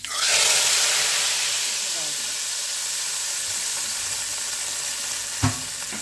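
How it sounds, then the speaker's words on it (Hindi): Spices crackling in hot oil for a tempering added to kadhi, a steady close sizzle with a sharper hiss at the start and a single louder pop near the end, without talk. "ये देखें ज़रा चटक पटक की आवाज़ें आ रही हैं"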